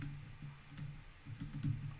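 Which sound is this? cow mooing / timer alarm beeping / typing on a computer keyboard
typing on a computer keyboard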